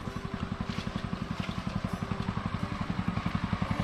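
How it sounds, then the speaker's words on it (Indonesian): Small motorized fertilizing machine working among chili plants, a steady fast-pulsing engine putter that stays even and close throughout. "mupuk kita pakai mesin"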